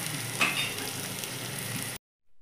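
Turmeric, red chili powder and cumin powder roasting in hot oil while making chole masala for chola bhatura, giving a steady close sizzle with a brief stir scrape, then cutting off to near silence.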